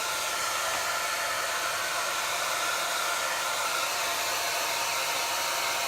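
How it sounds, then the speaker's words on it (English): A hair dryer blows continuously at close range, a steady loud whooshing hiss with no pauses. "I'm going to have to use the hair dryer really quick so I can speed this up"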